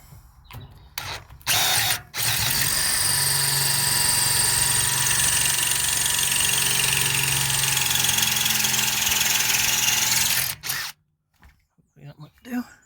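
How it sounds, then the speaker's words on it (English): A power drill bores out a frame bolt on a Land Rover Discovery 4, a steady, loud whine running about eight seconds after a couple of short bursts, with brief talk at the start and end. "Which in this case, I think I'm going to have to drill"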